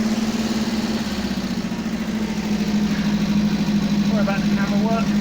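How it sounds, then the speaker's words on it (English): A Sea Wolf outboard-style boat motor runs with a steady droning hum at a constant low pitch, close and continuous. A faint voice is heard briefly near the end. "Sea Wolf motor, is it? Running."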